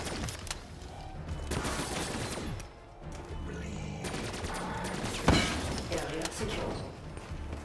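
Rapid weapon fire rattles in Call of Duty Black Ops 3 Zombies on the Gorod Krovi map, coming in repeated bursts with sharp impacts and crashes, loud and close, while a player talks throughout.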